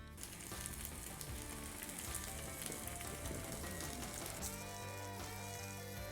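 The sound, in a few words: ribeye steak sizzling while reverse searing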